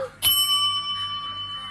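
A single bell is struck once, ringing out bright and clear before slowly fading over the next second and a half, with no talking.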